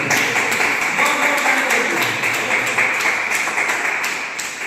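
Loud, dense applause from an audience at a lively class, sustained steadily throughout with continuous clapping and a slight fade toward the end.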